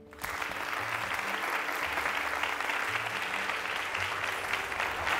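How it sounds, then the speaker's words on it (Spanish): Audience applause welcomes a guest at a theatre event, a sustained full round of clapping that starts abruptly and holds steady throughout, with faint low sounds beneath. "recibamos con un aplauso a Alberto Villarreal"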